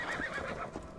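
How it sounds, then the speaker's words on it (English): Horse in Assassin's Creed Valhalla whinnying loudly and close in a single drawn-out neigh, with faint hoof clip-clop under it. "I'm pretty sure that's our horse."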